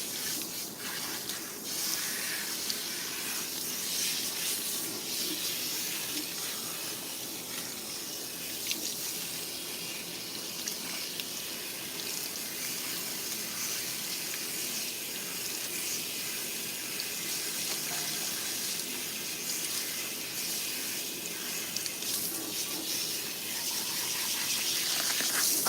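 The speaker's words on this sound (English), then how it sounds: "you are going to rinse, of course, with cool water" Cool tap water runs steadily at a salon sink while hair is rinsed, a continuous close hiss and splash that holds at a low level with small shifts in flow and no speech.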